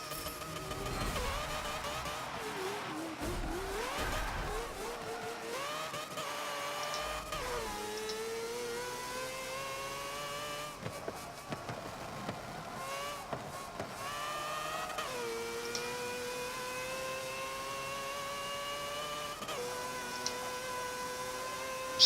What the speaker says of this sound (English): Sound this car makes is terrible.